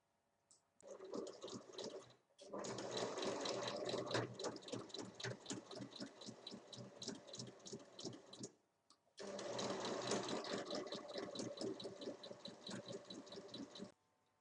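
Sewing machine stitching a fabric seam about 1 cm in along the full length of a fabric catch-all pouch, two steady bursts of rapid mechanical clatter split by a brief pause, close and loud.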